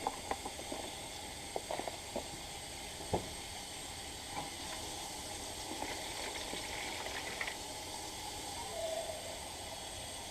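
Baking soda fizzing as it neutralizes vinegar, a faint continuous hiss with scattered tiny pops and crackles, quiet and close.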